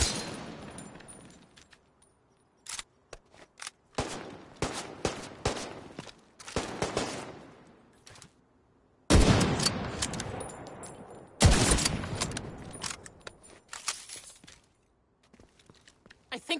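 Bursts of video game gunfire crack out in rapid volleys and single shots, some sustained like automatic fire, with quiet gaps between clusters and no talking.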